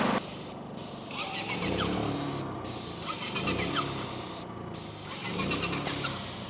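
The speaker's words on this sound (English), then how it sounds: "So I'm holding this sprayer about 12 inches away." A bargain airless paint sprayer coats an arena fence in a loud continuous hiss that cuts off briefly several times as the trigger is released, with a motor humming steadily underneath outdoors.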